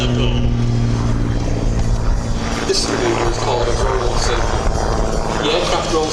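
An Xtreme Air aerobatic plane flies a rolling circle at an air display, its propeller engine droning steadily and loud with shifting pitch, while a commentator talks over the sound throughout.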